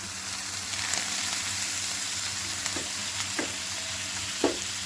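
Milk is poured over bread toasting in a pan with banana filling for a sandwich, giving a steady, close sizzle with a few brief louder crackles and spits.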